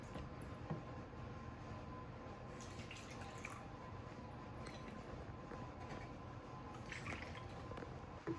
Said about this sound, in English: So first we add our 3 cups of milk.